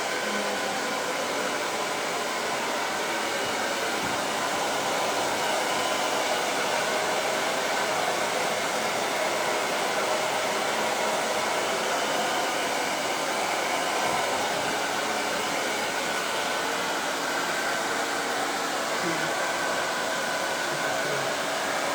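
A hair dryer runs continuously at close range, a loud, even whooshing roar as curly layered hair is blow-dried, with no break throughout.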